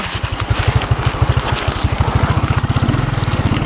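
Small motorcycle engine chugging steadily while carrying riders along a village road, close and loud, its pulse quickening toward the end as the revs rise, with no talk.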